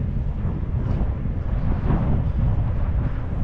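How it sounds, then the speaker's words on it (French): Steady low rumbling wind buffets the microphone while cycling in Sidi Bel Abbès, Algeria, a continuous broadband roar with no speech. "Il y a un peu de vent."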